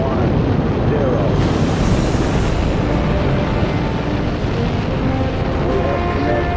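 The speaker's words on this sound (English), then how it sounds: "We have ignition sequence start. The engines are on." Rocket engines roar at launch ignition, a loud, continuous broadband rumble that stays dense and steady throughout, with a faint voice beneath.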